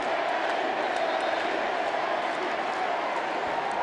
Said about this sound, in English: And listen to the crowd, Charlie.